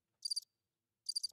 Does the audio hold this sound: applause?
no